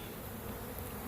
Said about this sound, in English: Now, there's a lot of bees right here in this swarm.